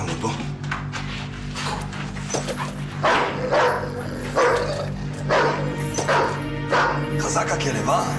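A dog barks repeatedly at close range, sharp loud yaps recurring through the scene, mixed with people talking over it and a steady low hum in the background.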